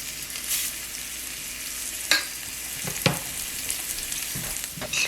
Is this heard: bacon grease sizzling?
yes